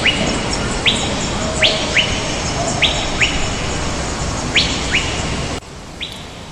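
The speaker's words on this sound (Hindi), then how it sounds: "ये है रंगों में ढका हुआ एक खूबसूरत परिंदा मकाओ।" Macaw and other birds calling in the Amazon rainforest: repeated short, sharp rising chirps at irregular intervals over a dense, hissing forest background, moderately close, with no talk.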